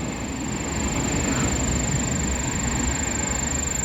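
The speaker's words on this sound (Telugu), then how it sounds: "ఆ మధ్యలో గూడ్స్ ట్రైన్ వచ్చేసింది." A goods train rumbles past nearby, heard from aboard a MEMU passenger train between Nellore and Vijayawada, a loud, steady roar lasting throughout with a constant high-pitched whine riding above it.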